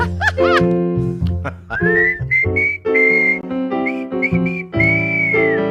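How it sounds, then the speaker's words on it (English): A woman whistles a bluesy melody in a series of sustained, sliding notes and short phrases, loud and close, with no talking. "she whistles too"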